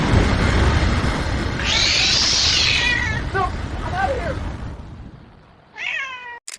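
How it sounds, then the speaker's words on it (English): A cat meows in a drawn-out, rising and falling cry over background noise, followed by a brief second meow near the end, with someone talking before it. "just a cat"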